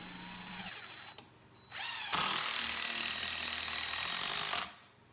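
A saw cuts the excess off a glued wooden plug on a garden bench build, a steady loud buzzing run of a few seconds after short starts and stops, with no talk.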